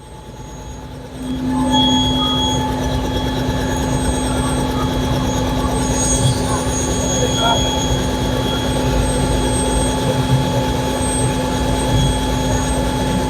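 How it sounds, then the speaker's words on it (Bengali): A steady, loud mechanical drone with a constant whining hum, like a helicopter rotor and engine running nearby, holding unchanged throughout. "দেখতেছেন যে হেলিকপ্টারের রোটর ঘুরতেছে এখানে"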